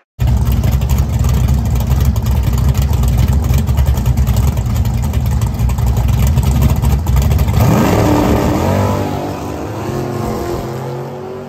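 Race car engine roaring loudly and close during a race run, a sustained high-revving blast that climbs through gear changes before fading as the car pulls away.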